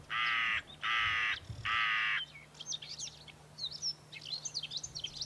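A hooded crow gives three loud, harsh caws in quick succession, followed by fainter chattering bird calls against a quiet outdoor background.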